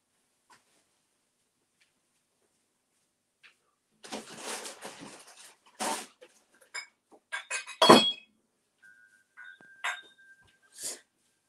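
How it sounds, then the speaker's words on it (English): Drinking glasses clink and knock together as they are handled during a whisky tasting, a string of sharp, close chinks and rattles in short bursts with quiet gaps, one louder clatter near the middle. "That was me just throwing my glasses around"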